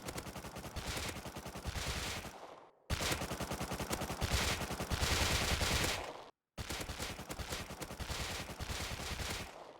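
MP5 submachine gun sprayed in full-auto in the survival game Rust, three long continuous bursts with brief pauses between, loud and close with no talk.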